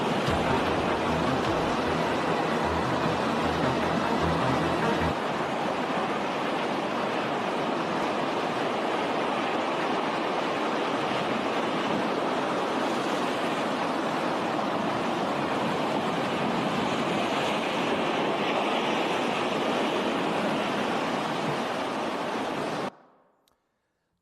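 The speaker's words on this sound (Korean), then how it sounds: "배 하나가 엄청난 파도 앞에서 속수무책으로 이리저리 휘둘립니다" A boat pitched about by huge sea waves, heard as a loud, steady roar of heavy surf and rushing water that fills the whole stretch before cutting off abruptly at the end.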